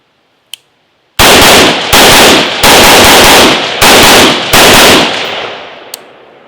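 Rapid rifle fire from a rifle fitted with a Geissele SSA-E trigger rings out outdoors: five loud, sharp shots in quick succession, each trailing into the next, then a faint click afterward.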